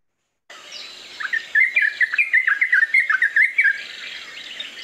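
A bulbul calling in a backyard, a quick run of bubbly, chirping notes in a lively burst, clear and fairly close over a quiet background.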